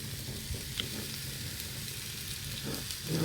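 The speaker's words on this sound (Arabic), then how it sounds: "التقليه اللي انا بقليها دي بتاعت ايه؟" Taqliya sizzling steadily in a pan for a spinach and freekeh dish, a continuous even frying hiss with faint stirring scrapes, no talk over it.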